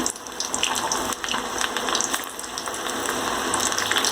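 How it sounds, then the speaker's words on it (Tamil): Bread balls dropped into hot oil, frying with a steady close crackle and hiss that runs unbroken, dense and fairly loud, with no voices. "இப்போ போய் பொரிச்சு எடுக்க போகிறேன்"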